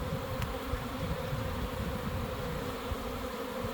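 A honeybee swarm buzzing close to a hive, a dense, continuous insect drone at steady loudness with no voices.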